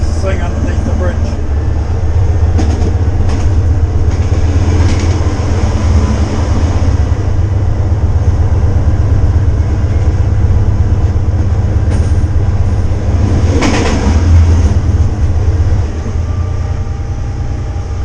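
A train rumbles steadily along the rails, loud and close, with a continuous low roar and occasional clanks and screeches throughout.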